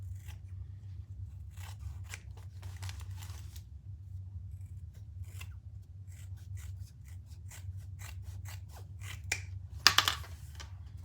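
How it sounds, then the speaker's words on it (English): Scissors trim the edges of fabric for a crossbody bag, making a series of crisp, quiet snips at an uneven pace over a low steady hum, with one louder cluster near the end. "I'm just going to trim my, just trim this up a little."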